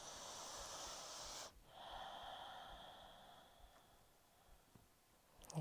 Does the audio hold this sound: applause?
no